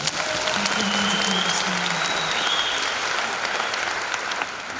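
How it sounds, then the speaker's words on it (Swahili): Audience applause at a business conference fills the room, a dense, steady wash of many hands clapping that holds loud and continuous before easing slightly at the end. "Mpige makofi kama umeelewa."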